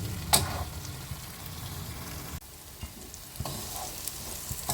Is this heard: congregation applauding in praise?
no